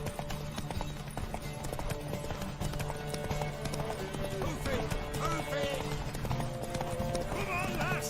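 Hooves clip-clop in a quick galloping rhythm in The Witcher 3: Wild Hunt, with a horse whinnying and a steady game soundtrack and background murmur behind it.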